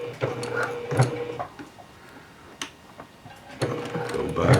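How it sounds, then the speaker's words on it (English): Sewing machine worked by hand wheel, its needle basting a seam in stretchy fabric, gives quiet irregular mechanical ticks and clicks, with a few louder bursts of whirring near the start and end. "So I'm going to go ahead and turn the hand wheel,"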